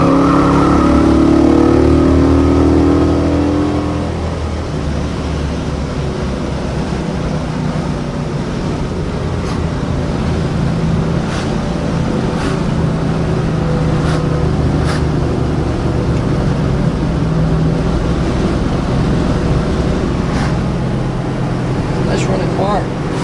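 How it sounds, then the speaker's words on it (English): A 1966 Ford Fairlane engine runs steadily and loudly throughout, a continuous motor drone with a brief deeper roar at the start. "Nice running car."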